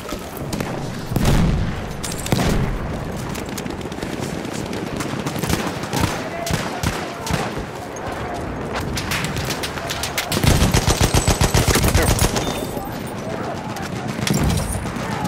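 Machine gun fire and explosions in a Battlefield 1 conquest match at Soissons: sustained bursts of rapid automatic gunfire with booms and distant shots, loud and dense, under occasional shouted game voices.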